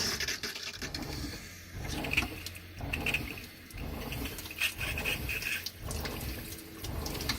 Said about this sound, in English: I'll turn the faucet on.